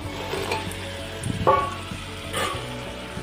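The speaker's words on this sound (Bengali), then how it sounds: "আলু, পটল আর চিংড়ি মাছগুলো ভেজে রেখেছিলাম, সেইগুলো এর সঙ্গে অ্যাড করে দেবো।" Fried potato, pointed gourd and prawns are tipped into a hot pan of spiced oil, setting off a close, steady sizzle. A sharp clatter comes in the middle as they land and get stirred, then a second, softer scrape.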